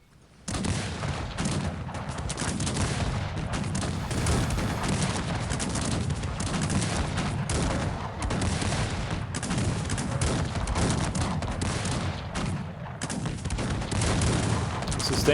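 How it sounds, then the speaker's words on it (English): A dense, unbroken roar of massed musket volleys fills a battle in the strategy game Cossacks 3, sustained and loud throughout with no pause, crackling shots blending into a continuous wall of gunfire. "Sustained fire seems to die down."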